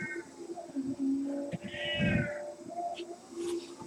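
A pet cat meows indoors with a few drawn-out, wavering cries of moderate loudness, separated by quieter stretches with soft background noise.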